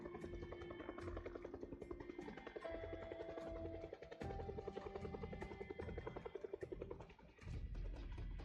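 A helicopter passes overhead in the survival game Project Zomboid, a steady rotor drone running loud and continuous under game music and ambience, dipping briefly mid-way and again near the end.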